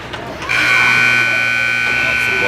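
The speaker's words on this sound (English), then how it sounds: "Buzzer end of the second period" An ice hockey arena buzzer ends the second period of a high school game: a loud, sustained electronic drone starting abruptly and holding steady for about two seconds, with faint crowd noise before it.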